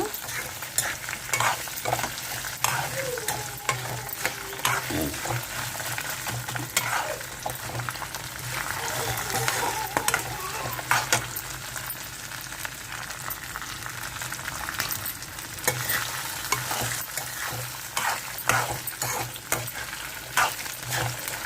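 Dried red chilies fry in hot oil with a steady, dense sizzle that runs close and loud throughout, broken by frequent spoon-stirring scrapes and clicks.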